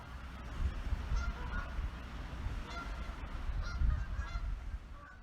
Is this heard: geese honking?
yes